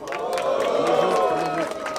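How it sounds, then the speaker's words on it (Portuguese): A crowd at the Batalha da Aldeia rap battle in Barueri cheers and shouts together in a loud, sustained roar that swells and then eases slightly over two seconds. "eu quero muito barulho pra quem curtiu as rimas de meu parceiro Trek"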